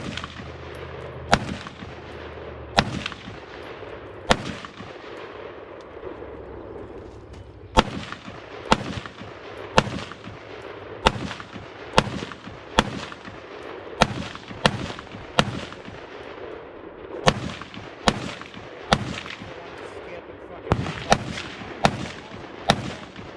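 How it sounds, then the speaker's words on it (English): Gunshots from a short-barreled rifle at a tactical carbine match, sharp loud cracks fired singly and in quick pairs at an irregular pace over about twenty seconds, with no talking. "I also shot a mini tactical carbine match that we'll roll some footage in"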